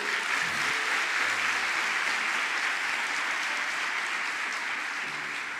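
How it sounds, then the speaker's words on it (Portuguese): A church congregation applauds in a continuous, even wash of clapping that holds at a moderate, fairly distant level for several seconds, with faint low tones underneath. "pode aplaudir ao Senhor?"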